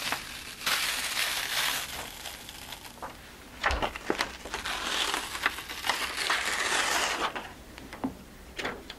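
Cricut stencil material being peeled back, a close series of crinkly, tearing rustles in uneven bursts with brief pauses between pulls, fairly quiet and with no talk.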